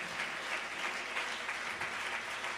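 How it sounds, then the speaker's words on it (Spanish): A church congregation applauds during a service, a continuous dense patter of many hands clapping at once, steady and moderately distant, filling the room without a break. "Dele ese aplauso al Señor."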